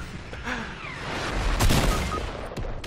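Gunfire in the Fortnite video game, a short cluster of bursts peaking mid-clip over a busy game mix, moderately loud, with faint background voices.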